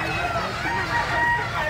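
A native rooster in Calumpit, Bulacan crows close and loud, a single drawn-out call lasting under two seconds.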